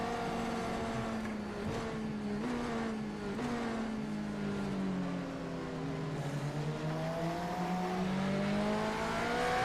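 A race car engine screams at full revs in an iRacing Daytona 24 Hours endurance session, a loud sustained whine with gear shifts and pitch climbing and dipping as the car pushes on, no talking over it.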